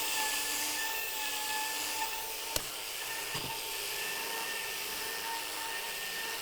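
A drill-powered brush spins against a ski base to clear off wax, giving a steady, high-pitched whirring hum. The sound runs continuously, with a couple of faint clicks along the way.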